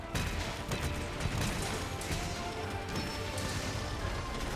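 Explosion in the Monster Hunter action game, with a dense, sustained crashing roar that fills the clip at steady high loudness, mixed with sharp impact cracks and battle noise and no talk.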